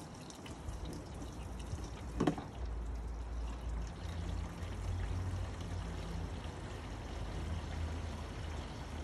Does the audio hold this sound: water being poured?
yes